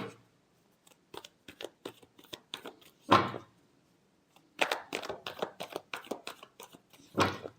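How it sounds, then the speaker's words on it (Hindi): Tarot cards are shuffled in quick bursts of crisp flicking riffles separated by short pauses, close and fairly quiet, with a couple of louder card slaps. "last shuffle"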